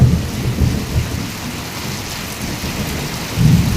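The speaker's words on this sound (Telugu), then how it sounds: "మొబ్బుకి చిల్లులు పడినట్టుగా పడుతుంది." A heavy downpour roars steadily, with low rumbles of thunder swelling near the start and again at the end; no one speaks.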